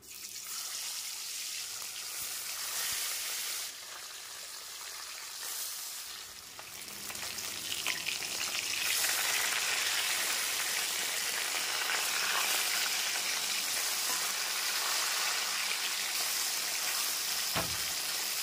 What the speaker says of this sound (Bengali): তেল খুব ভালোভাবে গরম হয়ে গেছে, মাছগুলিকে দিয়ে ভেজে নেব।